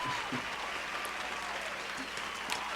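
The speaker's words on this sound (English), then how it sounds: "can we have a round of applause for Nelly, please?" A round of applause from a small group during a podcast recording, steady distant clapping that carries on evenly at low level with no talk over it.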